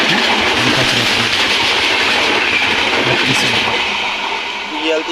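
The Kakinada Express pulls out of a railway station with a loud, close, continuous rumble and rhythmic clatter of the wheels over the rails.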